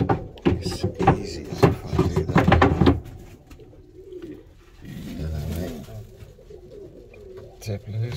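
Iranian saddle show pigeons cooing close by, a run of rhythmic throaty coos followed by softer, lower calls and shuffling, with a person's voice mixed in.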